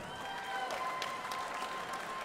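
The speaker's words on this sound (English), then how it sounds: "a round of applause once again for both of these warriors" Audience applause following a three-round amateur fight at a Fierce Fight Series event, steady clapping from a crowd in an indoor arena sustained for a couple of seconds with no voices on top.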